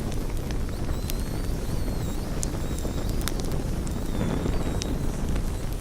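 Imitation of a small wood fire made with everyday objects: a steady crackling hiss with scattered sharp pops and snaps throughout, close and continuous, with no talking.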